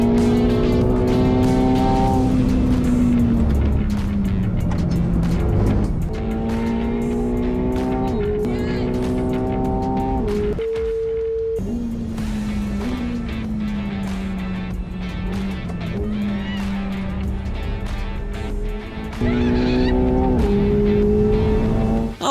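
A Formula 1 car accelerates hard at full speed with a celebrity passenger aboard, its engine screaming loud and close, pitch climbing through gears with brief drops at each shift, and a voice speaks over it.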